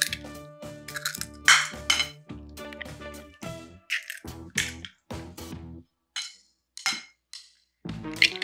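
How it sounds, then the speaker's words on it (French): Three eggs cracked into a bowl for a lemon cake, a series of sharp taps and clinks of shell against the rim, close and distinct, separated by quiet gaps. "Et maintenant, on va casser les œufs. Donc, vous allez casser vos 3 œufs."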